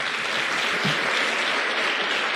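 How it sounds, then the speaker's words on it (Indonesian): Loud, dense audience applause at a business seminar, continuous clapping filling the whole stretch without any voice. "tepuk tangan dulu untuk Bapak Nagasugara."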